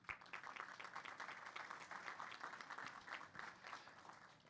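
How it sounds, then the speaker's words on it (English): A growth summit audience applauds the event staff, many people clapping in a steady, moderately dense round that carries on for several seconds at a fairly quiet, even level. "I'd like to give them a round of applause"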